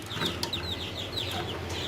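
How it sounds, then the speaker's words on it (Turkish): Several young Light Brahma chicks, hatched in an incubator and kept in a cage under a warm bulb, cheep in a rapid run of high, bright peeps close by. "Buraya bir 5-6 tane light bırakma civcivimizi koydum."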